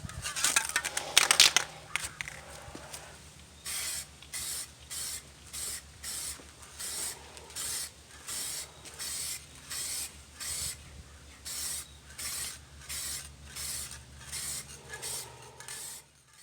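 Short spray bursts applying a second coat of paint to a car wheel rim during restoration, about fifteen evenly spaced hissing pulses after an opening rattle, close and steady.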